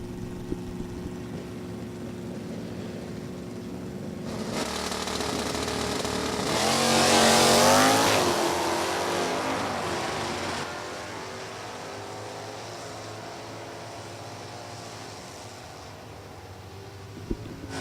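A stick-shift Camaro makes a Super Gas drag strip run. The engine drones, then builds into a loud roar that peaks mid-clip and recedes into a distant hum.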